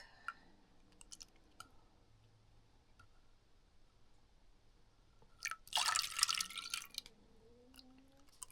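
Milk poured into a bowl of whisked eggs in an off-grid cabin kitchen, a short close splashing gush in the latter part after scattered faint taps and drips.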